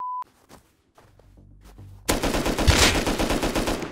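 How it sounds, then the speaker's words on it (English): Gunfire in the survival video game Rust: a few scattered single shots, then a sustained loud rapid burst of automatic fire continuing to the end. "Where am I getting shot from?"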